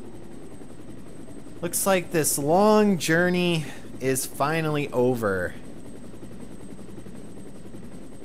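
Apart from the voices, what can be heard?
helicopter arriving in video game Resident Evil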